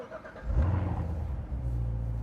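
A 2016 Chevrolet Corvette Z07 with the Ultimate Performance Package cranks and fires up, a deep engine rumble swelling into a short rev before settling to a steady low idle, close and loud, no talk.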